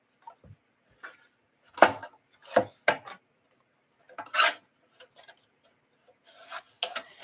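A trimmer cuts through dried craft material in short, isolated rasping snips and scrapes, close and fairly crisp, separated by quiet pauses.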